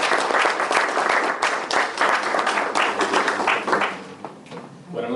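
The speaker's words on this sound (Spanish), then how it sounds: "Un fuerte aplauso." An audience at a book presentation in Spanish breaks into loud, sustained applause, dense overlapping clapping that holds steady and then tapers off near the end, with no talking over it.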